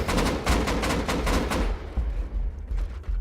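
Explosive ammo fired in a video game raid, a quick rhythmic string of loud booming shots for about a second and a half, then a rumbling tail of impacts and scattered pops.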